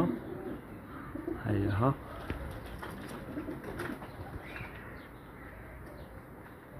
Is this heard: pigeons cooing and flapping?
yes